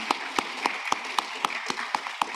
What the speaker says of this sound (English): Please, a second applause to our panelists for being with us today.